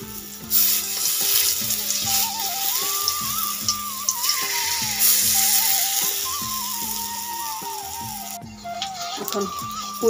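Malabar spinach fritters fry in hot oil in a wok, a broad sizzling hiss that runs under prominent melodic background music with a repeating beat.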